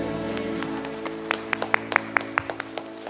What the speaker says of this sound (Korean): 우리 주님께 감사와 영광의 박수